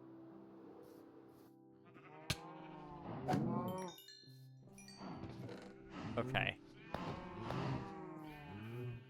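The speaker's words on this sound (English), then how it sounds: "I need to feed the cows now so that they breed again and I can eat more." Cows in the video game Minecraft give several drawn-out lowing calls, close and overlapping at times, with a short spoken word and a few clicks in between.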